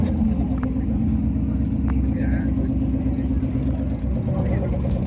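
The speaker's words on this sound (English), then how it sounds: "Ford made the Ranchero. It's probably making about 500 horsepower." A Ford Ranchero rated around 500 horsepower rumbles steadily at a Thursday night car meet in Bartlett, Tennessee, its low engine drone continuous beneath crowd chatter and a few brief knocks.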